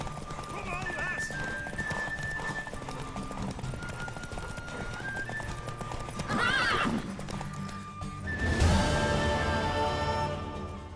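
Horse hooves in The Witcher 3 video game, a steady clip-clop under ongoing game dialogue and music, with two loud neighs or whinnies breaking in near the middle and toward the end.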